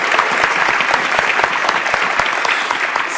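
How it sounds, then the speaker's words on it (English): Audience at an international conference on small modular reactors gives the speakers a big round of applause, a loud, steady, close wash of many hands clapping that continues without pause. "Please, big applause for"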